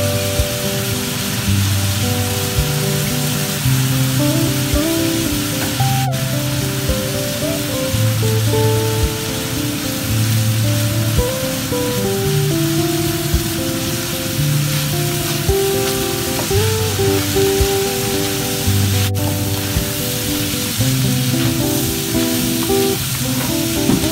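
River shrimp stir-frying in a wok with ginger, a steady dense sizzle like heavy rain running throughout, loud and close with occasional scraping stirs and no talking.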